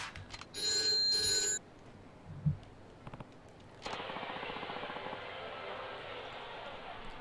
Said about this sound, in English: Pick it up so it stops ringing.